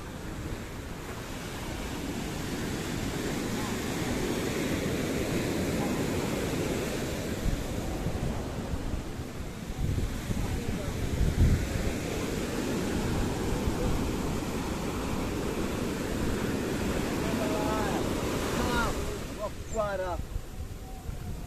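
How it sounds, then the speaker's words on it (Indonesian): Surf rolls in at rising tide on the open sea during a fishing trip, a steady roaring wash with gusty wind buffeting the microphone throughout and a brief flutter near the end. "Ini ombak pasang naik ini tempatnya, bukan pasang turun."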